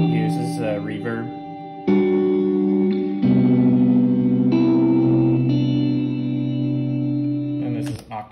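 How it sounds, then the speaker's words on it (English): An electric guitar plays sustained chords through the reverb setting of a Mood pedal, each chord swelling into a loud, shimmering wash with long echoing tails that overlap into the next. "This is a reverb."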